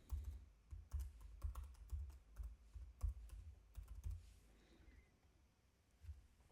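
A password is typed on a computer keyboard, with faint, close, irregular key clicks arriving in quick bursts that thin out toward the end.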